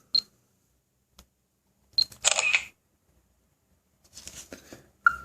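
A Samsung Galaxy Camera fires its shutter, with a short electronic chirp, then a louder mechanical click-and-whir burst, followed a second later by softer rustling handling noise and a closing beep, close and fairly quiet.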